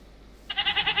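A Minecraft goat lets out a close, clear bleat, a bright wavering cry pulsing several times in quick succession after a short quiet stretch.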